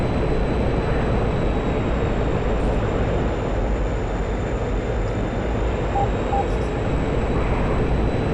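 MiG-21 jet engine in a combat flight game cockpit, a constant dense roar with a thin high whine on top, loud and unchanging throughout.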